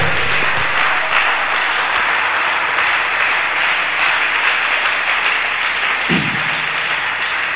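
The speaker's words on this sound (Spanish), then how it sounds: "Un aplauso para él." Sustained applause from a church congregation, steady clapping throughout at an even level, with no talking.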